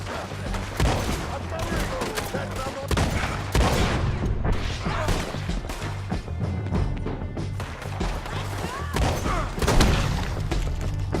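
Gunshots in Red Dead Redemption 2 bang out in a chaotic firefight, loud, close blasts and thuds overlapping at an irregular pace, with voices talking over them.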